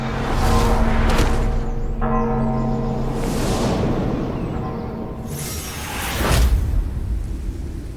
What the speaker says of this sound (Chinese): 钟声又响了